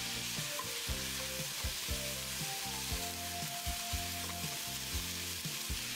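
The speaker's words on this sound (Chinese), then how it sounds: "这里要用小火煸炒，把排骨里的水分炒干" Pork ribs stir-fried without oil in a wok over low heat to dry out their moisture; a continuous hissing sizzle with rhythmic scraping and stirring strokes, close and steady, no voices.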